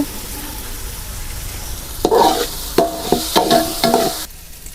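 Ginger, green chilli and garlic are tossed into a pan of wilted, softened onion. A quiet, low fry is followed by several loud, close scraping and stirring bursts in the middle before it settles again.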